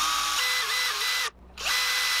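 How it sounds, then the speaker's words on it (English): Power drill boring a hole to hold the wire in a handmade fishing lure, a loud, close, high-pitched whine that drops briefly to near silence and then starts up again. "I'm gonna drill a hole to accommodate that"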